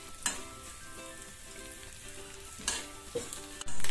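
Coconut pieces sautéing over a medium flame in a pan for unniyappam, a steady close sizzle with a few brief stirring scrapes and clinks.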